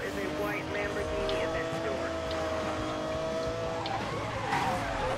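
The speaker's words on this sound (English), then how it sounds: "Ah, a bit too much on the handbrake there." A car in the video game Need For Speed: Most Wanted revs loudly through a handbrake spin, its engine roaring with tires squealing, while a person talks over the game sound.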